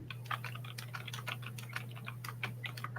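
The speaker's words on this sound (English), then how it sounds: "Joe said Amy can hear you typing." Fast, light typing on a computer keyboard, rapid irregular clicks heard faintly over a steady low hum, with no talking.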